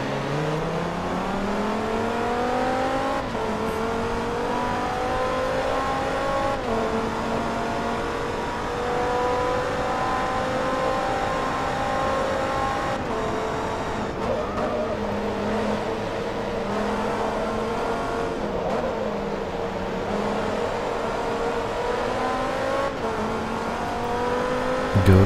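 Race cars accelerating hard around the Suzuka Grand Prix circuit in Forza Motorsport 2, a continuous high-revving engine whine climbing in pitch through repeated gear shifts, loud and steady with no talking.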